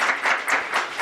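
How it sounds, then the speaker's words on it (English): Conference attendees at a panel on families fleeing violence in Central America applaud, a brief burst of pulsing clapping from a crowd, moderately loud with no talking. "let's give her a round of applause"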